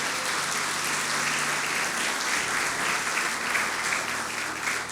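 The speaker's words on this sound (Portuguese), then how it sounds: "Aplauda o Senhor e glorifique o seu nome por isso." A church congregation applauds the Lord during a sermon, with full, continuous clapping at steady, fairly loud level throughout, dense and even like a large crowd.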